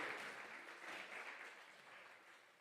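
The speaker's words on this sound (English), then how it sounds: "Let us give a big round of applause to all these volunteers as well." Steady applause from an audience honouring volunteers at a devotional community event, dense clapping that stays loud and continuous throughout without any talk over it.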